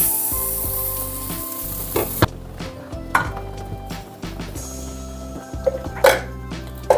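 Coconut oil heats and melts in a separate pan for the tempering of a village-style potato curry, with a steady sizzle and a few sharp clinks of utensils against the pan.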